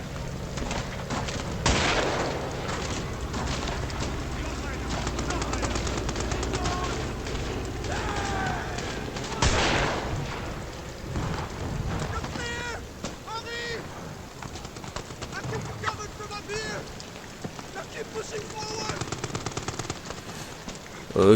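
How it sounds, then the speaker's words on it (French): Repeated gunfire from shooting at enemies in the Amnesia: The Bunker horror game, sharp bursts and shots scattered through a dense, noisy game soundscape, with a player's voice and exclamations heard over it at times. "Je leur tire dessus."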